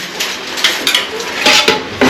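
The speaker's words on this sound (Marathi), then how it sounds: "भांडी वाजतीये" Metal dishes and pots clang and clatter in several sharp, close knocks, loud and irregular, with no talking.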